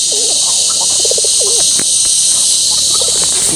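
Pigeons coo in a series of soft, low rolling calls close by, repeated several times over a constant high hiss of insects or crickets, with a few faint clicks.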